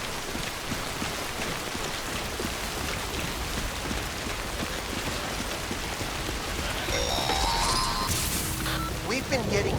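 Steady timefall rain in Death Stranding pours across the whole stretch as a dense, even hiss of rainfall, with a brighter splash or crash near the end.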